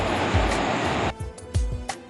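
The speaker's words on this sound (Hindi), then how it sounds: "पानी की आवाज़, पानी का ये शोर बहुत सुकून देता है।" A river's rushing water gives a dense, steady broadband roar that cuts off abruptly partway through, leaving quieter rumbling and a few thumps.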